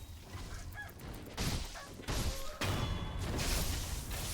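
Giant chickens in the game Sekiro: Shadows Die Twice let out goose-like honks amid thuds and crashing hits, a busy, close scuffle of squawks and impacts over a few seconds.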